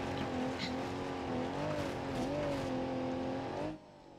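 Car engine in BeamNG.drive revving loudly and steadily while driving along walls, its pitch wavering up and down with faint tire noise, then cutting off abruptly near the end.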